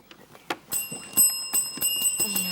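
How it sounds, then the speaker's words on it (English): A bell rings to end a round of a Jamaican junior school quiz match, sounding as sustained bright tones over a few clear strikes, with background studio noise and no talk. "That is the Bell"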